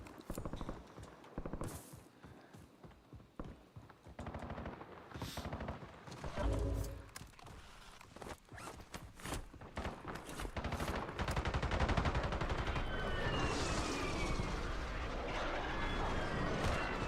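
In a video game, bursts of gunfire aimed at the player build into sustained, dense automatic fire, loud and close, with aircraft-like roaring underneath and no talk.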